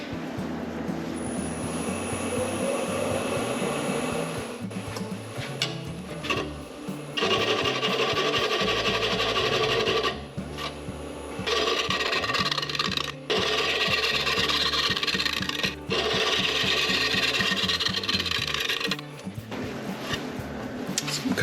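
A heart-shaped wood bowl blank spins on a lathe as a gouge flattens its face, giving a loud, continuous cutting roar and whir with repeated passes and short breaks between cuts.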